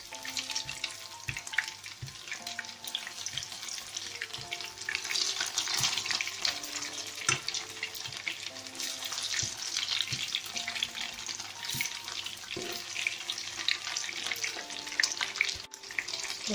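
Chicken pieces fry in oil in a Mambo cooker for lemon chicken, a steady crackling sizzle with occasional pops and light clinks of utensils, close and continuous.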